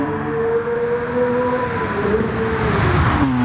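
Lamborghini Countach QVX engine in a racing video game, a loud steady high-pitched whine held in third gear that dips and rises as it shifts near the end, with no talking.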